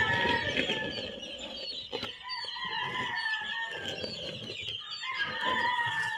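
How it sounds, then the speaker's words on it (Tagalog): A brooder of three-week-old chicks gives a busy chorus of close, high peeps and chirps, overlapping and continuous, with occasional louder calls. "Meron dito yung 3 weeks old na mga sisiw."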